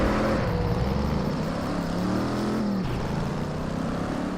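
A car in Test Drive Unlimited 2 launching from the start of a race, its engine droning and rising steadily in pitch, loud and continuous with a brief dip before climbing again.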